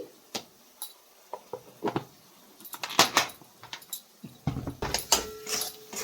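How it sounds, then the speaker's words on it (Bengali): Chicken curry being stirred in a metal pot after salt is added, with irregular scraping and clinking of a spoon against the pan, some strokes louder and rougher, spread across the stretch with brief quiet gaps. "লবণটা দিয়ে আমি মিক্স করে নিচ্ছি।"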